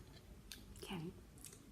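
Hard blue crab legs bitten and chewed at close range, a few crunchy bites and squishy chews in a quiet room with a faint low background hum.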